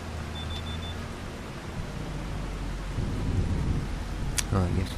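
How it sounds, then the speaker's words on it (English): Steady rain hiss with a low rolling rumble of thunder in Farming Simulator 25, a broad continuous wash building slightly louder toward the end, with no talk over it. "A nice rainy September day."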